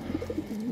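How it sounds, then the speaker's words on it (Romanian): Pigeons cooing at close range: a short run of soft, low, rounded coos pulsing in quick succession, ending in a longer drawn-out note, with no voices. "Așa, porumbeii ăștia sunt, dragi prieteni."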